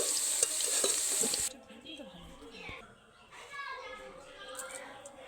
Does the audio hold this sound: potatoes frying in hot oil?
yes